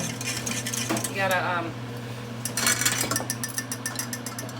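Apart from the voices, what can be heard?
stirring melted chocolate in a pot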